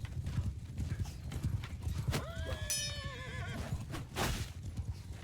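Horses in a Mount & Blade II: Bannerlord battle, with near hoof clip-clops and a loud rising whinny midway, amid battle noise.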